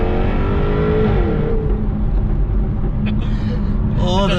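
A 2015 Jaguar F-Type R engine revs loudly and close, a dense, steady rumble that swells and holds throughout, with a brief voice near the end.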